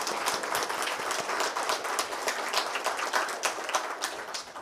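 An audience applauding a minister at an education forum in a hall, steady dense clapping that continues evenly throughout with no talk on top.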